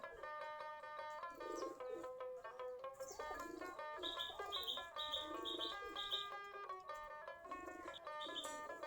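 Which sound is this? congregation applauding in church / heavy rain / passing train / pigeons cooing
pigeons cooing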